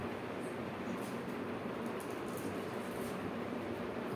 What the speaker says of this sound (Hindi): देखिए देख सकते हैं आप, ये ट्रेन आ गई हमारी मेट्रो